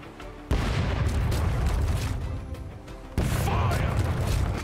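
A gunpowder barrel blows up in the pirate video game Rogue Waters, giving two heavy, booming blasts a few seconds apart, each followed by a sustained roar of rumbling debris and crackling.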